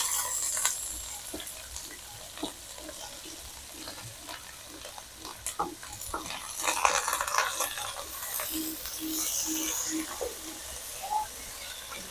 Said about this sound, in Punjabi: ਪਿਆਜ਼ ਭੁੰਨਾਂਗੇ ਚੰਗੀ ਤਰ੍ਹਾਂ ਲਾਲ ਹੋਣ ਤੱਕ